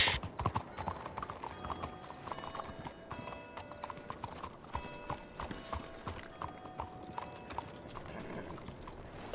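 Steady clip-clop of a video-game horse's hooves at a walking pace in RedM, with faint mechanical clicks and rattles in the background and no talk.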